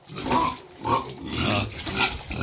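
Pigs and piglets on a farm grunting and oinking in repeated short bursts close by, with a faint trickle of water underneath.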